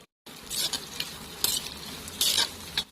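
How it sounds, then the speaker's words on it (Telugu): Onions, green chilies and curry leaves fry in a pan with a steady sizzle, broken by several scraping stirs of a spoon against the metal, close and fairly loud with no talking. "ఆనియన్స్, పచ్చిమిర్చి, కరివేపాకు వేసి ఫ్రై చేసుకున్నాం"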